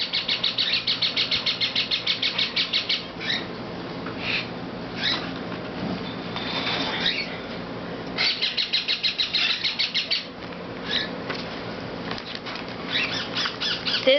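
Newly hatched Cape parrot chicks chirp and squawk close up in rapid repeated bursts, with some rustling between the calling runs.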